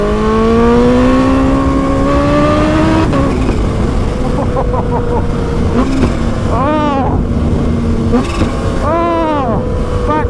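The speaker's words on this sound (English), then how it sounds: "Oh, backfire. Oh, I could do that all day. I love that pop." A Kawasaki Ninja H2 supercharged motorcycle revs hard, its loud engine note climbing and dropping through the gears, with sharp exhaust pops and backfires on the overrun. A rider's voice is faintly heard beneath the engine.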